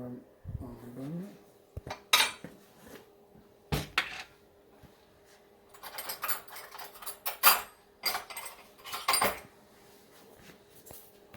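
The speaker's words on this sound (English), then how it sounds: "I'll be putting the almond butter in real quick here" Almond butter spooned into a cooking pot while making a vegan dinner, heard as scattered sharp clinks and scrapes of a spoon against metal, with quiet gaps between the bursts.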